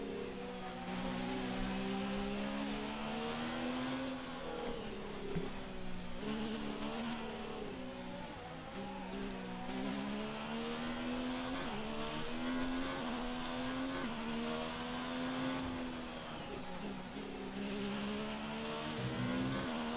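Ferrari Formula 1 car engine in the racing game F1 2019, a high, whining V-shaped wail rising and falling through gear changes across a whole stretch of lap, loud and continuous with no voices.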